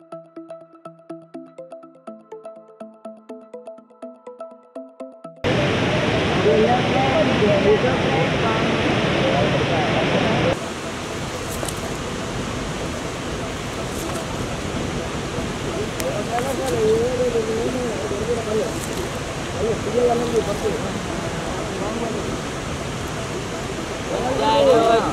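Chitrakoot waterfall, a continuous broad rushing roar of falling water that cuts in loudly after a few seconds of quiet tonal music, holding steady and full with faint tones and voices layered under it.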